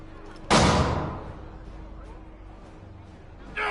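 A single loud gunshot from the Assassin's Creed 3 video game cracks out close, its boom decaying over a second into quiet game ambience, with another burst starting at the end.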